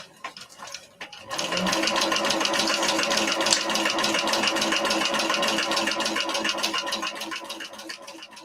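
A Texo sewing machine sews a Scottie dog appliqué, starting after a brief pause and then running at a steady, fast rhythmic whir close by for several seconds.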